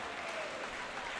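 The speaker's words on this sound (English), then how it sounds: "good clap out for both teams" A swim meet crowd gives both teams a clap-out, with steady, dense applause held at an even level for a brief moment.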